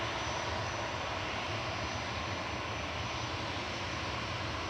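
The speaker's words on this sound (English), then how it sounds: "I think that was Aer Lingus from Dublin. A320." An Aer Lingus Airbus A320 airliner passes overhead, a steady broad jet rumble and whoosh at a distance, fairly faint and unchanging, with no talking.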